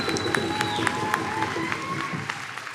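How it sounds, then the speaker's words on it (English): At a Tlingit culture, language and literacy program celebration, an audience claps for the teachers. The clapping is moderately quiet and steady, with a few sharper individual claps and a voice sounding briefly over it. "Let's clap for them."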